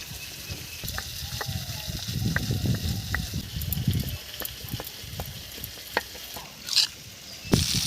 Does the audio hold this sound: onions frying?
yes